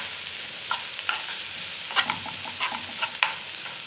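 Onion frying in a pan with a little oil, cooked only to soften without browning, makes a continuous crackling sizzle, punctuated by several short scraping stirs.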